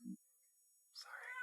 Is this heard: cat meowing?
yes